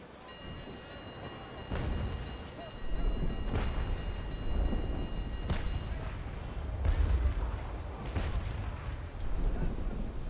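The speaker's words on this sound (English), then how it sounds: "Let's get a few little more broadsides" Naval sailing ships firing cannon broadsides in the video game Naval Action, several deep booming blasts spread over the stretch with rumbling low-end, over a constant high tonal hum and muffled ambience.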